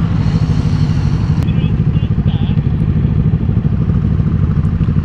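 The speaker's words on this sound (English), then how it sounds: "everyone's out riding their bike" Motorcycles ride past outdoors on a busy riding day, a steady loud engine rumble and road roar filling the whole stretch without letup.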